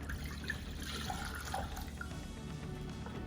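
Two cups of water pour into a cooking pot for jasmine rice, a continuous splashing trickle, close and fairly soft.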